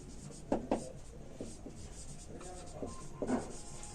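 A pen or marker writes on a classroom board in several short scratchy strokes, quiet and close, with soft rubbing sounds between them and no talking over it.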